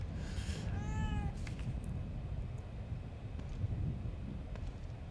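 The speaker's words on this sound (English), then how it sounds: "There's a cat." A single clear cat meow in the horror video game The Evil Within 2, rising then falling, heard early over a steady low ambient rumble and faint wind-like noise.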